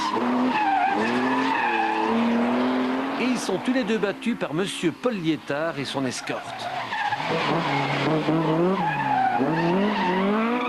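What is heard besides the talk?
race cars skidding in a race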